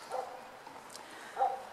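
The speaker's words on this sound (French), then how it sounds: "Tous les chiens du quartier répondent aux chiens là." Neighbourhood dogs bark in the distance, two faint barks about a second apart over quiet outdoor background.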